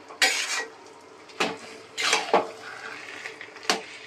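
Prawns go into a cooking pan with a few sharp clatters and clinks of metal and utensils, spaced over several seconds, with a faint wet sizzle and clatter between the hits.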